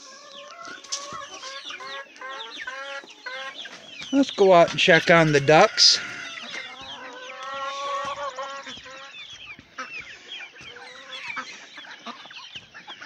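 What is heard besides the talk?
hen clucking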